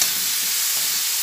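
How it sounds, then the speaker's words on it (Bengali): Vegetables seasoned with cumin powder sizzle in a pan while being stirred: a brief, even, close hiss of frying with no voices. "আবার ভালোভাবে সবজিটা নাড়াচাড়া করে নিই।"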